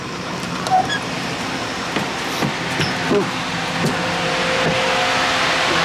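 Inside a moving bus with its heaters running, a steady low engine rumble and airy hiss continue throughout, broken by a few faint knocks and rattles.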